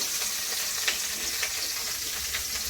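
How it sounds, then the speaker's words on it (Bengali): Bitter gourd fries in hot oil with onion, garlic and green chili, giving a steady close sizzle with a few soft stirring scrapes and no voices. "পেঁয়াজ রসুন কাঁচা লঙ্কা দিয়ে একটু উচ্ছে ভাজা করছি"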